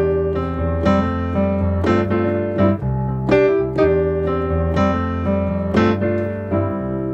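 Piano plays the Happy Monday chord progression used in pop tunes, a series of sustained chords struck roughly once a second at a moderate, even tempo, clear and close with no talking.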